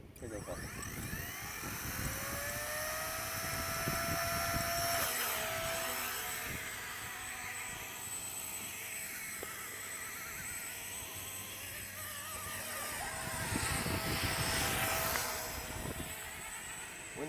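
Whining electric rotor and motor of a radio-controlled Horizon Hobby AH-64 Apache model helicopter flying outdoors in daytime, a steady high drone with rising and falling pitch as it maneuvers in the wind, with people talking nearby.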